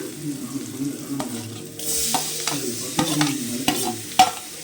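Chopped tomatoes sizzle and fry in a pan for pasta while a utensil stirs and scrapes against it, with repeated sharp clacks at an irregular pace.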